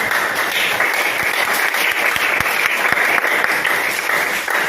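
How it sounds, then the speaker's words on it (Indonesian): Schoolchildren in a classroom give steady, close, energetic applause that lasts throughout, many hands clapping at once without a pause. "Beri aplaus dulu anak-anak."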